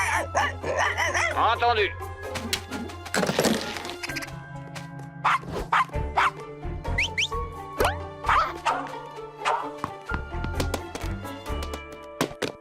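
A cartoon dog barks and yips in short bursts amid cartoon thumps and effects, loud and close, mixed with character voices speaking.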